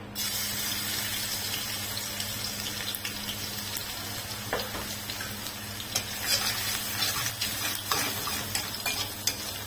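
Garlic frying in the leftover oil of a kadhai after okra was fried in it, a steady close sizzle with occasional stirring scrapes running unbroken and alone.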